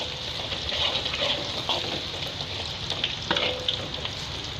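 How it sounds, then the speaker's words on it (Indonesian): Garlic dropped into a generous amount of hot oil in a pan, sizzling steadily and fairly close, with crackling pops and a few stirring clicks throughout. "Oke, udah panas ya. Kita masukkan bawang putihnya dulu."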